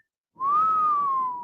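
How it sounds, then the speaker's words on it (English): A single whistle, one clear sustained tone that rises slightly and then slides down, lasting about a second with no other sound around it. "So let's collectively whistle at this ridiculous score."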